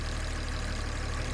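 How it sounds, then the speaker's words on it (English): A Jaguar XJ6 with a new engine sits idling while running hot, giving a steady low rumble with a faint even pulse, close and continuous with no other sounds. "It's just sitting idling."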